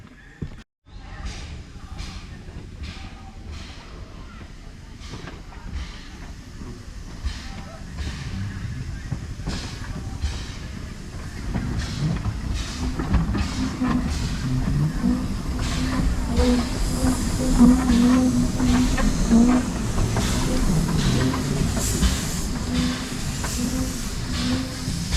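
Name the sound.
steam locomotive train, Isle of Wight Steam Railway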